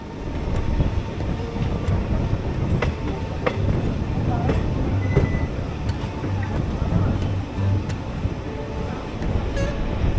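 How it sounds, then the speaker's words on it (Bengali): A passenger train running past Shaktigarh, a loud steady rumble and rattle of wheels on track heard from inside the carriage, with wind noise throughout. "আর এখন আমাদের ট্রেন পার করে যাচ্ছে ল্যাংচার রাজধানী শক্তিগড়।"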